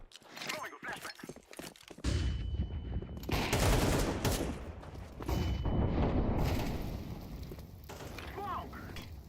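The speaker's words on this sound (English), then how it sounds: "Throwing a flashbang" A flashbang grenade detonates in Counter-Strike 2 with a loud burst at about two seconds, followed by sustained roaring game noise and gunfire-like crackle, with a second loud surge later; a ringing tone lingers after the blast.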